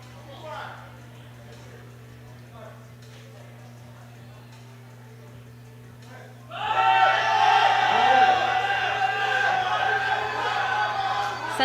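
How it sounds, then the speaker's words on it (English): At a junior powerlifting world championship, quiet commentary gives way halfway through to the Brazilian team's loud, sustained cheering and shouting for their lifter on the bench press, while a commentator keeps talking over it. "you can hear the Brazilian team cheering him"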